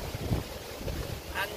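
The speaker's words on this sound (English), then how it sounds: "windy out here." Wind blowing outdoors and buffeting the microphone, a low, steady rumble with a few stronger gusts over about a second and a half.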